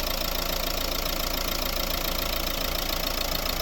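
A 1.5-litre dCi diesel engine of a 2013 Renault Grand Scenic III idles steadily with a rough, knocking rumble that holds constant throughout, close and continuous with no voices.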